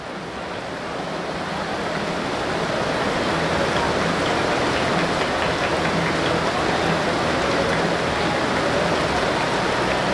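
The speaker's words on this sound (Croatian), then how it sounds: "Vrijeme nas ne mazi, pljusak se pojačao" Heavy rain pours down steadily at an outdoor athletics track during a women's 1500 m race, a dense, loud, continuous hiss and patter that swells slightly in the first seconds and then holds constant throughout.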